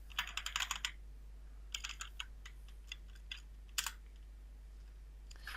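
Typing on a computer keyboard while setting up an Ubuntu server, quick bursts of clicking keystrokes separated by pauses, close and fairly quiet over a low steady hum.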